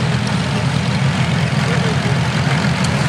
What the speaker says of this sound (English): The one coming around the inside that's dark blue is what we call a half track.